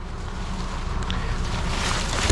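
Steady, soft rush of light wind with low rumbling buffeting against the microphone, continuous and even throughout, no voices.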